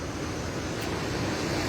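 Ocean waves after a typhoon crash in a steady, dense roar mixed with wind buffeting the microphone, heard up close and continuous with no talking.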